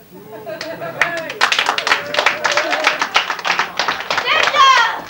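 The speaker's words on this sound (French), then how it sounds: "Applaudissez-moi, mon peuple." A small group claps by hand, with scattered uneven claps building into a fuller burst of applause over several seconds, mixed with children's voices and chatter.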